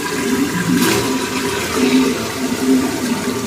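Green beans go into chicken masala frying in a pan, giving a loud, steady, continuous sizzling hiss that stays close and even throughout.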